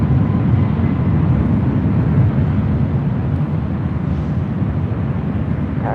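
An Air Canada Boeing 737 MAX 8 takes off from runway 24 left at LAX, bound for Vancouver. The jet roars as a loud, steady, broadband rumble that holds at full power throughout, heard from a distance with no voices over it.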